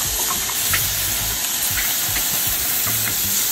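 Strips of bacon sizzle and crackle steadily in a hot pan while a utensil stirs and pulls them apart, giving soft scraping taps over the constant frying hiss, with no talking.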